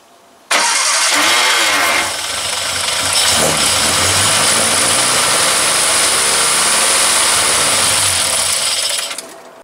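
An Austin Healey Frog Eye Sprite, dormant for twelve years, cranks and catches abruptly, then runs loud and close at a rough, steady idle for several seconds before cutting off.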